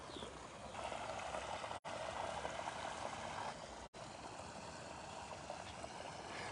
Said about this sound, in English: This water coming from the springs in the mountain around here